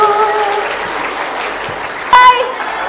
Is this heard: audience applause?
yes